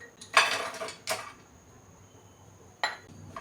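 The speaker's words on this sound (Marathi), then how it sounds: "तर मी ह्याच्यामध्ये काजू आणि मनुके टाकणार आहे." Cashews and raisins tossed into a pan of roasting makhana, giving a few sharp metallic clatters and scrapes close by, spaced apart with quiet in between.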